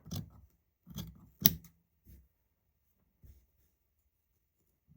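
Scissors snip through the fabric of a bound buttonhole in a quiet room, making a few short, close cuts in quick succession, then a couple of fainter snips with pauses between.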